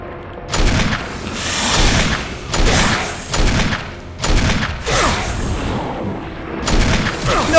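Repeated loud gunshots from a self-defense gun in Resident Evil, fired into an enemy at close range, coming as heavy booming blasts about once a second with echoing tails over tense game ambience.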